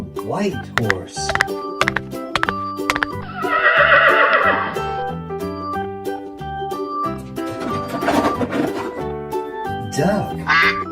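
A toy horse gives a neigh during a session of naming farm animal toys, with an adult voice speaking over and around it.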